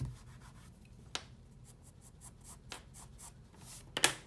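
Graphite pencil shading and smudging on paper while drawing the inside of a forearm, a quiet, close scratchy rubbing with a few sharper strokes, soft and steady throughout.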